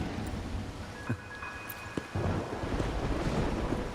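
Steady heavy rain with a low rumble of thunder in the Wuthering Waves video game, a constant dense wash with a brief swell near the middle and no voices.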